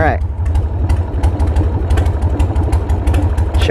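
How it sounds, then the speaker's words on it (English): A 1994 Harley Davidson Sportster 1200 idles low with the choke pushed fully in, a loud, close, steady rumbling pulse that runs the whole time, with a voice briefly at the start and end. "She idles really low with the choke in all the way."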